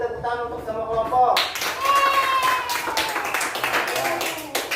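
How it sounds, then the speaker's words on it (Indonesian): Classroom applause for all the student groups, a dense burst of many hands clapping that rises abruptly and holds steady under a teacher's voice for several seconds. "Sekarang beri tepuk tangan untuk semua kelompok."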